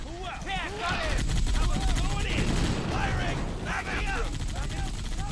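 Rapid gunfire from a Gauss cannon and a machine gun in a Halo-themed Men of War battle, with dense bursts and crackling shots continuing under a voice talking over the fighting.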